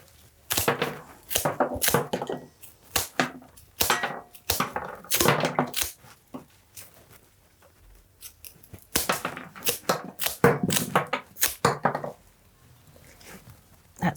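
Sharp snipping cuts of scissors trimming flower stems to length for a hand-tied vase arrangement, a run of close, crisp clips in bursts with short pauses between, no talk.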